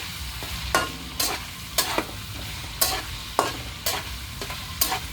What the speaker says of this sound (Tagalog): Haluin natin ang haluin hanggang sa mag golden brown